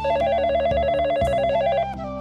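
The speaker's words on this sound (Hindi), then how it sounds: "मैंने फिर दूसरे मंदिर समिति के अध्यक्ष श्री खुशहाल रावत जी को फोन मिलाया।" A telephone rings loudly and steadily with a warbling electronic trill, close and alone for a couple of seconds before cutting off.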